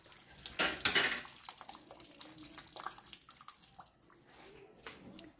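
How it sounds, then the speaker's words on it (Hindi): Rice for sweet zarda pours into a cooking pot in a home kitchen, a brief loud rattling burst followed by softer scattered clinks and light scraping, quiet overall. "अब इसके अंदर मैं क्या करूंगी कि चावल हम शामिल कर देंगे।"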